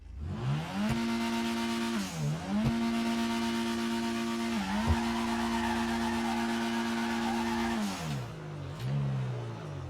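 Car drifting in GTA 5, engine revving up and down in long sustained pitches with tire squeal as the throttle is modulated, dipping briefly between slides.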